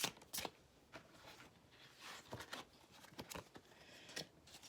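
Oracle cards being shuffled by hand, a close, quiet run of soft riffling and flicking bursts with small pauses, and no talking.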